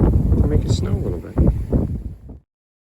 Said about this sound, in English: sorry about the wind, but this little squall just came in.